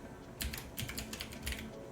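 Rapid bursts of keystrokes on a computer keyboard, close and crisp, clattering in uneven clusters with brief pauses between them.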